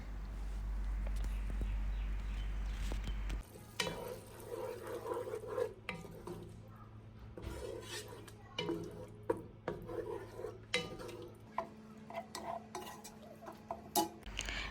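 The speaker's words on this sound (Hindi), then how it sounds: "थोड़ा सा इसको चम्मच के साथ मैश भी कर लेंगे।" Mutton meat masala being mashed and stirred with a spoon in a pot for yakhni polao, with scraping taps and soft clinks over a low steady hum that drops away after the first few seconds.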